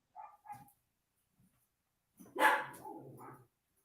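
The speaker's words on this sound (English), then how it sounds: "I hear a lot of puppy dogs." Several small dogs bark in short, sharp yips and bow-wows, a couple of quick barks followed by a louder burst of overlapping barking from a little way off, with no talking.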